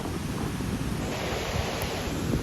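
A loud, steady roar of water rushing from the overflowing Bhatsa dam in Shahapur, Thane, broadband and unbroken, with some wind buffeting the microphone.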